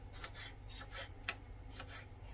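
A small tomato being finely chopped with a knife: a quick series of close, soft raspy cutting strokes, about eight in a row, with one sharper tap partway through.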